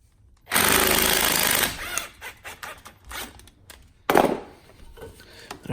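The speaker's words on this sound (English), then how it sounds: "take a 7mm socket, and we're going to go ahead and remove this clamp" A 7mm socket on a power driver spins off an intercooler hose clamp on a Fiat 124 Spider Abarth: one loud whirring burst of about a second, scattered metallic clicks and knocks, then a second short burst.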